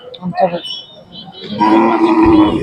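A fourteen-month-old Khillar young bull lets out a loud, drawn-out moo close by at Sangola cattle market, preceded by a few brief voice sounds.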